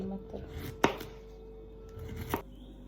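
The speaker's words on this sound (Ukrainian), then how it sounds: "Тепер нарізаємо кружальцями товщиною приблизно 1 см" A knife cuts peeled zucchini into rounds about 1 cm thick on a board, giving two sharp, distinct chops about a second and a half apart, with quieter contact sounds between them.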